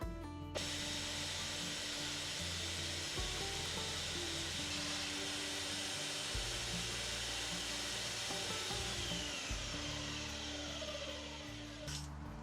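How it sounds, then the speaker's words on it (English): A belt sander shapes wood for a narrowboat build in a steady, loud mechanical whine that runs almost unbroken, with a brief pause partway through. "Be careful when you use these belt sanders like this, that this belt don't come off"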